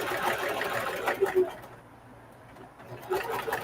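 A sewing machine runs in short bursts while stitching down a patchwork duffle bag, its motor whirring near and moderately loud, pausing briefly in the middle before starting again.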